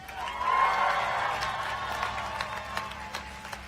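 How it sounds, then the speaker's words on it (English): Commencement crowd in a large venue gives a moderate round of applause for graduates' parents, a diffuse wash of clapping with scattered sharper claps and a faint murmur, fading gradually. "graduates, please give your parents a forced round of applause"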